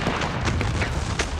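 Eleven cannon and about 1,700 muskets fire together in a single volley during a Civil War battle at Gettysburg, producing a dense, continuous roll of booms and cracks with repeated sharp bursts.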